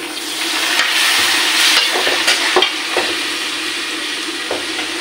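Water poured into a pan of sizzling ground spices with a little dry red chilli powder, a loud steady frying hiss broken by scraping strokes of stirring, close and alone with no talk.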